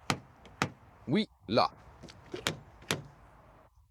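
Toyota Corolla Cross door worked by its handle: a series of sharp clicks and thumps as the latch releases, the door opens and shuts, close by, with brief speech in between.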